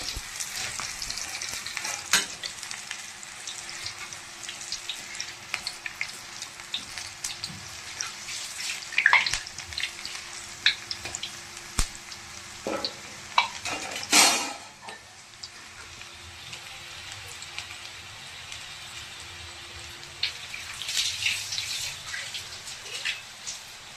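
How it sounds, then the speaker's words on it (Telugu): Spinach pakoda fritters frying in hot oil, a steady close sizzle and crackle running throughout with occasional stirring clinks and splashes of water from a tap. "ఆయిల్ వేడెక్కింది వేడెక్కిన తర్వాత మనం పకోడీలు వేసుకోవాలి"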